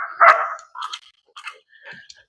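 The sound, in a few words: dogs barking in the background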